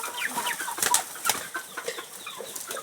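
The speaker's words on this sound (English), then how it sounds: "here you can see my chicken together with my pigeons feeding" Chickens and pigeons feeding together on a farm, with busy close chirps, clucks and short bursts of wing flapping scattered across the clip.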